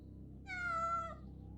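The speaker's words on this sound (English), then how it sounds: "It's your cat." A single clear cat meow in the video game Kujlevka, sustained and tonal, about two-thirds of a second long, rising out of a low background hum with no talking.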